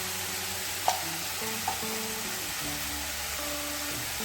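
Tomato and onion frying in a pan with salt and turmeric, a steady loud sizzle under a hum of background tones, with a couple of sharp scrapes of a spoon stirring the pan early on.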